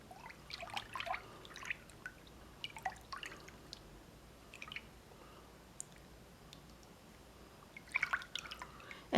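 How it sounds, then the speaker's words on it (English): Liquid candle colorant in a spiced pumpkin shade dripping into melted wax for homemade wax melts: a few faint, scattered drips and soft wet squishes, close and quiet, with no talking. "I'm using a liquid candle colorant called Spiced Pumpkin. I'm just going to add a little bit until I get the color that I want."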